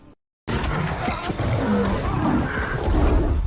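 A lion roaring in the 2022 film Beast, a deep, sustained growling roar up close after a brief gap of silence, rumbling steadily and swelling toward the end.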